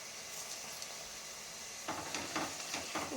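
Chickpeas fry in masala in a pan for a banana-and-chickpea gojju, a soft, quiet sizzle with light stirring scrapes and clicks picking up in the second half.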